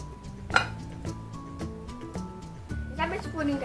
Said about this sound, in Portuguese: Gente, agora a gente vai tampar a panela.